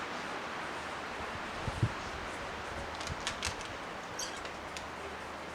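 Wind picking up outdoors, a steady broadband rush like air moving through leaves, with a few soft knocks and brief gusty rustles rising over the constant hiss.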